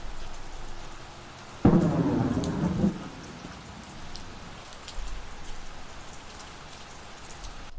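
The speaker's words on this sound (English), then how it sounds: "Actually, it sounds a lot like thunder." A sudden low rumbling boom rolls out over a couple of seconds, like distant thunder, against a steady hiss of background noise.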